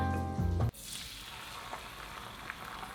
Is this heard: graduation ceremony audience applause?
no